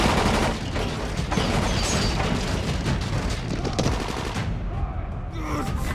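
Heavy gunfire during a cutscene in the zombie game Dying Light: loud, overlapping shots and booms fill most of the stretch, then thin out near the end.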